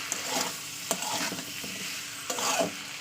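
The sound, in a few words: sautéing spices with turmeric and salt in oil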